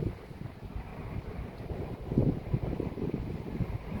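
Gusty wind during a lightning storm buffets the microphone in an uneven, rumbling roar that swells louder midway, heard alone without voices.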